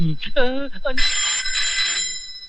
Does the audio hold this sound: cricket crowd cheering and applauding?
no